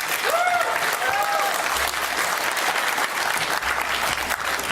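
An audience at a debate breaks into sustained applause with some cheering, a dense crackle of clapping from a crowd that holds steady for several seconds.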